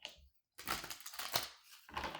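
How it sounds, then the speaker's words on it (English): A deck of playing cards being given a quick shuffle, close up, with a short burst of riffling, a pause, then two longer crackling runs of flicking cards. "Let me give this a quick little shuffle."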